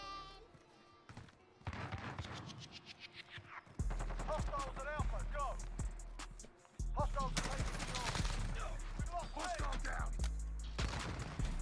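Bursts of M4A1 rifle fire ring out in a first-person shooter game, rapid automatic volleys in several loud strings with short pauses, over faint game background sound.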